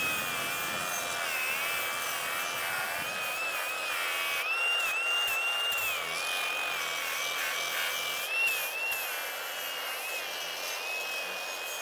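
Coffee is ground nearby with a continuous whirring, grating drone whose pitch wobbles up and down for several seconds.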